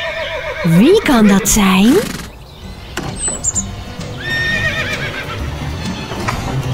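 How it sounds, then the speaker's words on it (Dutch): A horse gives a loud, wavering whinny near the start, in a children's farm-animal sound game; a voice then asks a short question over faint background noise. "Het is het paard."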